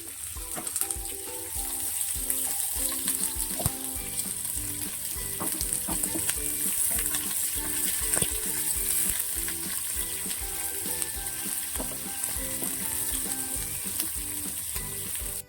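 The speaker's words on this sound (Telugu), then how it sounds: "తెల్లగడ్డలు బాగా వేగిపోయిన తర్వాత కట్ చేసి పెట్టుకున్న కరివేపాకు అండ్ తెల్ల ఎర్రగడ్డలు" Curry leaves and onions fry with garlic in hot oil, giving a steady close sizzle with crackles and occasional stirring scrapes, no voices.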